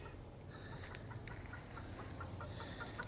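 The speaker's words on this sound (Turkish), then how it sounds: "Evet horozlarımız gene nöbetçi." Faint, distant fowl calls and clucks repeat over a low background rumble, sounding like roosters and hens somewhere off in the yard.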